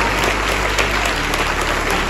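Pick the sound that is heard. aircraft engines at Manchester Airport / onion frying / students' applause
students' applause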